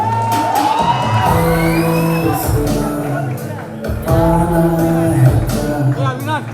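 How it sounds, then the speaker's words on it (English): A crowd at a college fest cheers and whoops for a group of girls, loud and close, with shouts and a voice over a mic mixed in. "please cheer for the group of girls here, along with Ayush sir"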